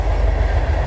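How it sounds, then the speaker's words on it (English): A BNSF freight train rolling past nearby, heard as a steady loud rumble with rail clatter that fills the whole moment. "oh, there goes the train."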